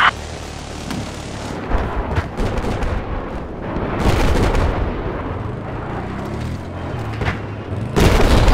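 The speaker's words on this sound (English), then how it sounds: "The sniper's trying to shoot me here," Battlefield 4 combat on a busy multiplayer server: repeated heavy booms and bursts of gunfire, including sniper shots and explosions, loud and close with a constant rumbling battle backdrop.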